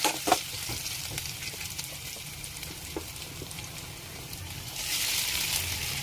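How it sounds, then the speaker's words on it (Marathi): Boiled potato frying in hot oil for sabudana khichdi, a steady close sizzle with scraping stir strokes, a louder hiss swelling near the end. "आता यामध्ये उकडलेला बटाटा घालूयात। बटाटा तेलामध्ये व्यवस्थित परतून घ्यायचा आहे।"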